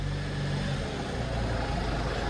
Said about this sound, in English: It sounds like a car.